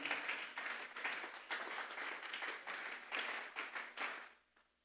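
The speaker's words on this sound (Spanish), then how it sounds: "Vamos a darle una ofrenda de palmas a Dios en esta hora." Church congregation clapping as an offering of applause to God, a dense steady wash of many hands that builds, holds for several seconds and then fades out, heard alone without any talk.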